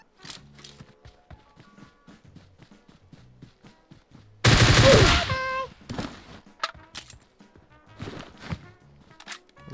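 A shooter video game with a dense burst of automatic gunfire spraying for about a second, loud and close, set among sparse in-game clicks, footsteps and short mechanical sounds before and after.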